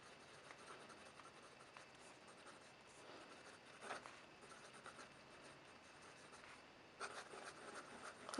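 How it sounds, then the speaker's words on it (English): An Aurora 88 Large fountain pen with an oversized nib writes across paper, giving a faint, steady scratching that swells in brief louder strokes near the middle and again toward the end, with no talk. "So let me show you how it writes."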